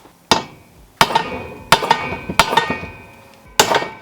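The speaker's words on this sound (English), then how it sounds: "take a socket and a big mallet and you can punch those out" Five sharp metallic strikes ring out as a big mallet hammers a socket to punch out caps, each impact loud and close with a brief ringing tail, spaced about a second apart.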